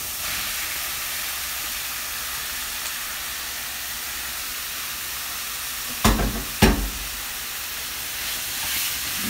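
Minced beef sizzles steadily in a pot for a shepherd's pie, a loud, continuous frying hiss broken by two sharp metallic clanks partway through.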